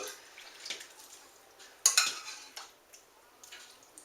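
Cornbread dressing is mixed around in a pan with soft scraping and clinking of a utensil against the pan, one sharper knock in the middle, fairly quiet and close, with no talk.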